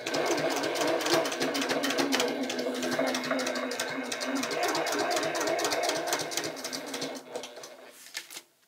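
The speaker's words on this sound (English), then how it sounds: "I'm going to reinforce across here as we go. And then I'm going to back stitch at the edge." A sewing machine runs steadily for several seconds as it back stitches across quilt fabric, a loud, close, rapid mechanical chatter that slows and stops at the end.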